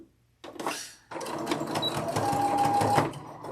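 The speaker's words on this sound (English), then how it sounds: "Every time I sit down at my sewing machine to do these quilt blocks of the month" A sewing machine stitches quilt blocks, its motor starting in a short burst, pausing, then running steadily and close for a few seconds of continuous whirring with a faint tonal whine.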